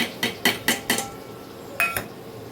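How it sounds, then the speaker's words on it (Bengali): Amul milk being stirred into a hot pan: five sharp metallic clinks of a spoon against the pan, four in quick succession and one more after a short pause, close and clear over a quiet background. "আমুল দুধটা দিয়ে খুব ভালো করে নাড়বে"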